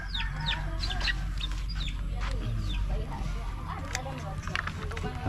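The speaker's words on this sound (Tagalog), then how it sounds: "Uy, manok." Chickens cluck and squawk in the background, sharp repeated calls over a steady low rumble, with people talking nearby.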